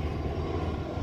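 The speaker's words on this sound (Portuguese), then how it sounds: "Olha lá o avião." A fixed-wing airplane drones overhead above a park in New Jersey, a steady faint engine rumble heard from a distance in a brief stretch with no voices.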